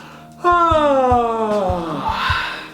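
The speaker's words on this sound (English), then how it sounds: "let's do a bit more yawning." A drawn-out vocal yawn, starting high and sliding gradually downward with a breathy, airy finish, heard up close against a faint steady background hum.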